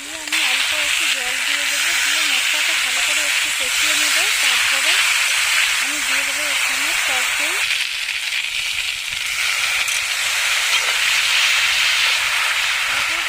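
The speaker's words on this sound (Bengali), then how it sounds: "মশলাটা ভালো করে একটু কষিয়ে নেব তারপরে আমি দিয়ে দেবো এখানে টক দই" Spice paste of chili powder loosened with a little water, then sour yogurt, frying in a pan for a fish gravy, giving a steady, close hiss of sizzling that runs throughout beneath a voice.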